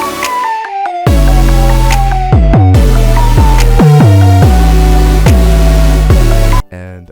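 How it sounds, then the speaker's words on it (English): Instrumental beat for a song: mellow electric piano chords over a deep, booming bass, with crisp finger snaps falling on a steady rhythm, loud and close, cutting off abruptly near the end. "together the instrumental sounds like this, along with these snaps."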